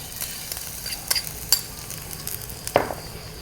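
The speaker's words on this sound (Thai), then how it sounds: "กระทะร้อนแล้วนะคะยายใส่น้ำมันลงไปเลยกระเทียมค่ะ" Oil sizzles steadily with garlic frying in a hot wok while a utensil scrapes and taps against the pan several times, close by.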